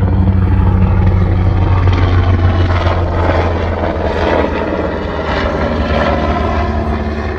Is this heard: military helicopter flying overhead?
yes